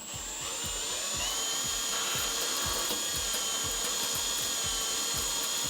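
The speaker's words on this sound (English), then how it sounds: "we can load this into our drill, which is again a 10mm" An electric drill fitted with a 10mm bit runs at a steady speed, giving a continuous high whine over a low hum and a rapid rhythmic ticking, close and loud throughout.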